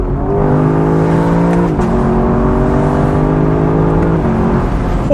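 A 2024 Lexus LC 500 convertible's engine revs hard toward the limiter, rising in pitch with a quick shift near two seconds and another near four, loud and close throughout with no talk.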